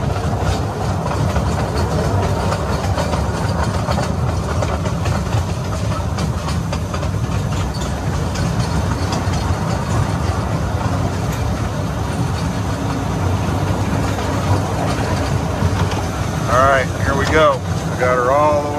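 A steeple cab electric locomotive strains to haul loaded hopper cars up a 4% grade, giving a loud continuous rumbling drone with rattling, and a brief squeal of wheels near the end.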